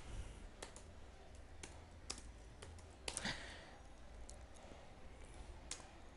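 Light typing on a computer keyboard while entering a command in the Windows command prompt to set up a USB boot drive, with soft, irregular key clicks close by in a quiet room.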